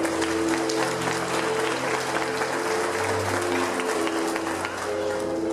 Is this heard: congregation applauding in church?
yes